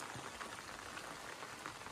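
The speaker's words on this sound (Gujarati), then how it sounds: "હાલ કેશોદમાં 48 કલાક થયા વરસાદ પડે છે" Heavy rain falls steadily in Keshod after two days of downpour, a faint but even patter of drops striking surfaces, continuous with no voices.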